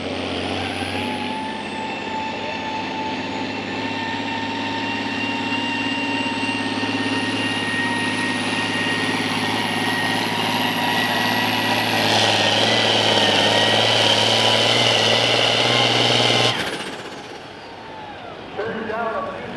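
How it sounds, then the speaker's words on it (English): A competition pulling tractor at a tractor pull in Rockwell, Iowa roars loudly and steadily, its engine pitch climbing higher as the RPM rises, then cutting off abruptly near the end. "Dan Arnold bringing the RPM up."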